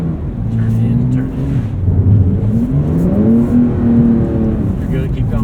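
Porsche 911 engine on a race track at the Porsche Experience Center, all-wheel drive, accelerating with rising and falling pitch through gear changes; loud and steady throughout, with an instructor's voice talking over it.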